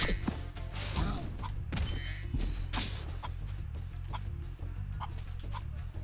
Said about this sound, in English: he's just harassing the chickens